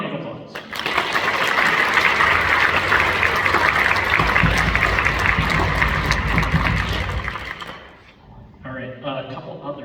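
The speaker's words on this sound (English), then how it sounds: "Big round of applause." A crowd applauds loudly and steadily for several seconds, the clapping fading out before a voice resumes speaking.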